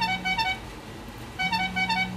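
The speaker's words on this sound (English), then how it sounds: "I got somebody honking." A car horn honks twice, two sustained tones separated by a short pause, fairly loud and close, with no talking.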